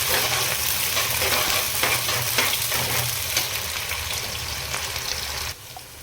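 Chopped onion frying in hot oil for a Punjabi-style potato and capsicum curry, a steady dense sizzle with scraping stirs throughout, loud and close, dropping slightly near the end, with no voices.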